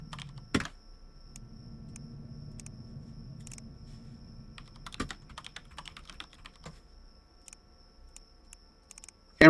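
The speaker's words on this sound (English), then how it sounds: "Oh, my typing sucks." Computer keyboard typing in sparse clusters of sharp keystrokes with a few louder isolated clacks, alone against a faint low hum with no talk.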